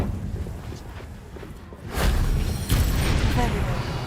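A Confringo fire spell bursts in a Harry Potter video game, a low rumbling boom that swells midway and holds as a heavy whooshing roar, loud and close.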